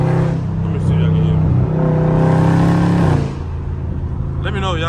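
Heard from inside in traffic, a Dodge Scat Pack's loud engine and exhaust hold a deep, throaty drone, swell, then drop sharply as it downshifts, settling into a lower rumble while a voice briefly cuts in.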